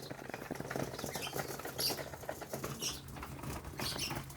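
Pigeons flap their wings in a fancier's loft, with a few soft, fluttering bursts of wingbeats amid light rustling and scratching, fairly quiet and with no talk.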